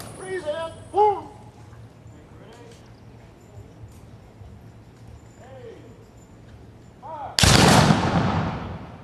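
Black powder guns fire a single loud, sharp volley after commands, in cold weather at a Fourth of July event, the blast decaying quickly after quieter voices.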